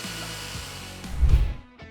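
A jigsaw whirs steadily, then bogs into a louder, rougher grinding burst as it bites into wood before winding down; no speech.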